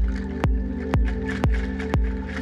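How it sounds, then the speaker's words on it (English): Organic synth pads built from field recording textures blend into a lush sustained drone, pulsed by a soft low thump roughly twice per second, with no voices. "I created textures and then I blended them with synth sounds and played pads"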